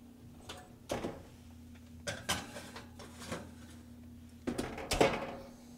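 A baking tray holding a jam roly poly is put into an oven. Several clanks and metallic knocks of the tray and oven door come in scattered bursts over a low steady hum.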